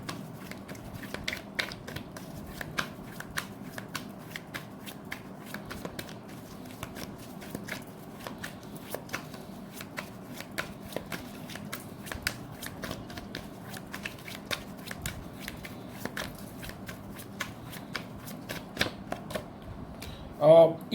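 Tarot cards shuffled steadily by hand, a long run of soft riffling clicks and slaps close up, ending in a louder final knock.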